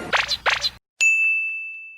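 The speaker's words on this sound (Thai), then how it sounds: "กดกระดิ่งสิ" A single bright notification bell ding rings out clearly and decays smoothly, following a couple of short voiced syllables and a brief silence.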